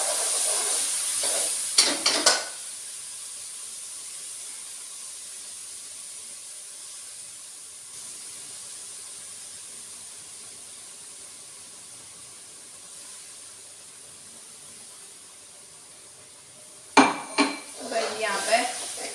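Tomatoes, chili and ground ginger go into a pan of fried garlic, setting off a steady sizzle that runs under clattering utensils at the start and again near the end; no one speaks.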